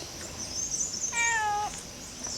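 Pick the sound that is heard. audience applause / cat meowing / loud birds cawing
cat meowing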